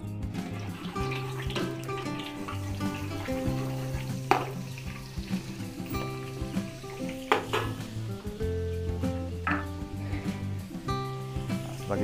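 Oil and margarine sizzle and fry in a pan in a Filipino home kitchen, a steady crackle running throughout beneath louder, continuous background music.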